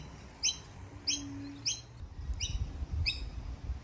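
Kookaburra giving several short, sharp chirping calls at regular intervals over a faint background hum, fairly quiet and close.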